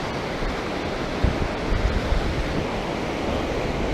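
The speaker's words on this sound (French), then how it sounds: "avec le bruit de l'eau, c'est pas évident." Rushing water beside a narrow trail, a steady broadband roar that is loud and continuous with some wind buffeting on the microphone.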